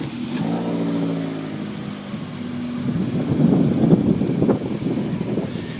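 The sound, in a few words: Fiat 500 Abarth car engine starting and revving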